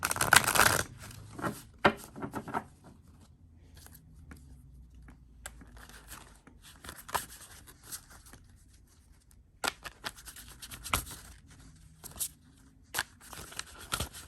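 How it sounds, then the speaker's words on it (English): Tarot cards being shuffled for a spiritual reading, giving soft riffling and flicking bursts, with a dense flurry at the start and again later, close and fairly quiet, with no talking. "let's give a little shuffling"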